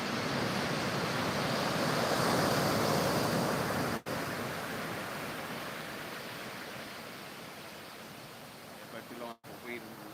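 Ocean waves crash on the shore where someone is fishing, a loud, continuous roar of surf with wind buffeting the microphone and two short dropouts.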